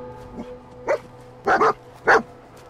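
A dog in the video game Fallout 4 barks four times in an irregular rhythm, the first bark faint and the rest louder and closer, with a quick double bark near the middle, over a low game ambience.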